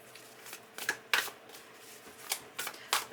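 Tarot cards being shuffled by hand, a series of short riffling bursts spaced irregularly with brief pauses between, fairly close and quiet with no talking.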